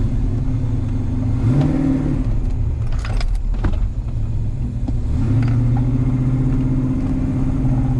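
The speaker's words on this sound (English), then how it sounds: "just pulling forward out of the shop, applying the brakes, it stops" A 1970 Chevrolet El Camino idles and rumbles close by as it pulls forward out of a shop, engine note rising slightly, with faint clinks in the background.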